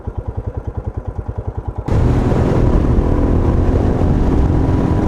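A 2021 Royal Enfield Himalayan motorcycle is first heard idling with a steady, pulsing single-cylinder thump, then it switches abruptly to a loud, continuous engine and wind roar as it is ridden.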